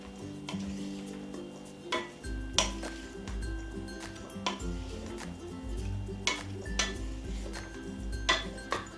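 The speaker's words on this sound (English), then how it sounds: "Let's give that a stir around and see if we need some more." Chicken salad stirred in a bowl with a utensil, giving soft scraping and intermittent clinks and taps against the bowl, fairly faint with a low hum underneath.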